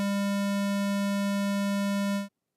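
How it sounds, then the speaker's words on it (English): Synthesized square wave tone, a steady buzzy hum with strong odd harmonics, held evenly for about two seconds before cutting off abruptly into silence. "A square wave sounds like this."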